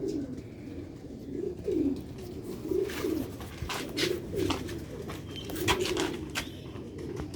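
Pigeons coo in repeated soft, low throaty phrases, several calls overlapping at a steady pace, with faint background noise and no talking.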